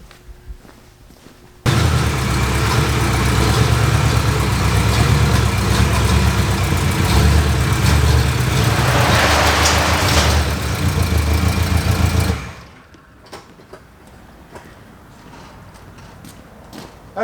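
A carbureted Oldsmobile engine fitted with a remanufactured Rochester Quadrajet cranks, catches and idles slightly choppy. It comes in abruptly as a loud, steady rumble, runs for about ten seconds close by, then cuts off to near quiet.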